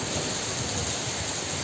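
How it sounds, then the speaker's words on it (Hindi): Steady hiss of falling rain, dense and even throughout the short stretch, with no voices. "यहीं खड़े रह के बारिश का आनंद लेते हैं"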